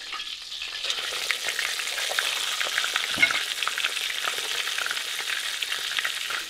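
Hot moose fat sizzles and crackles steadily as donut dough fries, a dense continuous hiss with no talking.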